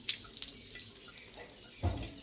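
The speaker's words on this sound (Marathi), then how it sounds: "ओके, आता टॅप बंद करा." A tap runs steadily as a toothbrush is rinsed under the water at a bathroom sink, a soft continuous splash with a few small drips early on and a brief louder gush near the end.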